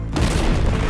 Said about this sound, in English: using her cannon to suck in and launch fellow crewmates to hard-to-reach places